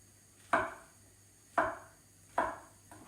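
A knife chops mushrooms into quarters on a board in three sharp, evenly spaced thuds about a second apart, close and crisp against a quiet kitchen background, with no talking.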